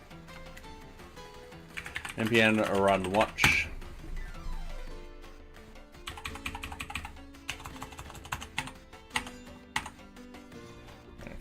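Rapid clatter of typing on a computer keyboard while coding in JavaScript and Python, close and fairly loud in uneven bursts, with someone speaking over parts of it.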